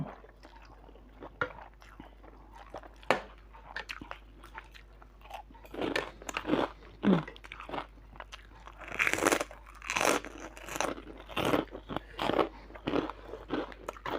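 Crispy pork dipped in shrimp paste and eaten with chilies, crunched and chewed close to the mic in a quick series of crackly bites, growing denser toward the end.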